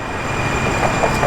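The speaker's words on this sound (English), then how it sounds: "Here's just a little metro train. It's coming here." A metro light rail train arrives in Tempe, Arizona, with a loud, close, steady rumble of wheels on track, a tonal whine above and faint squeaks near the end.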